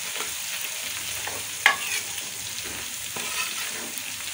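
Garlic and green chillies frying in a pan as they are stirred for a Pakistani-style spinach and lentil curry, giving a steady close sizzle with a few sharp scraping clicks from the stirring.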